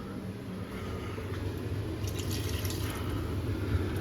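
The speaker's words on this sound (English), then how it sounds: "I would probably maybe just add maybe half a can's worth of water" Water pours steadily into a pot of Iraqi white bean stew with lamb, a continuous splashing fill heard close and alone for several seconds.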